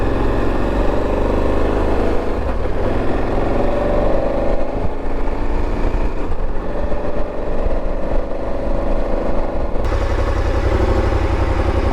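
A motorcycle rides along the Trans-Québec trail in Beauce, its engine droning loud and close throughout with shifting revs, rising and easing as the bike moves.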